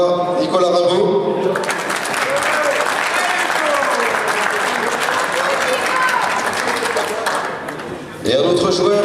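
Sustained audience applause and crowd noise for a local player at a Brittany blackball pool tournament, dense clapping for several seconds, easing briefly before the announcer's voice returns over it.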